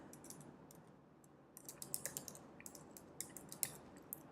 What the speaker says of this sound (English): I'm just going to type the domain name here.